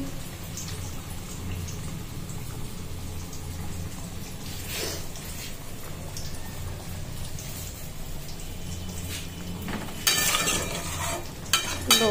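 Curry with potatoes frying in a pan and hissing steadily, with a soft constant patter like rain and occasional louder bursts of stirring and scraping near the end.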